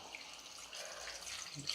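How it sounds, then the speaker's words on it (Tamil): Water pours steadily and softly into sautéed masala for a country chicken curry in a home kitchen, a faint continuous trickle with a small splash near the end. "இப்போ தேவையான அளவுக்கு தண்ணி சேர்த்துக்கலாம்"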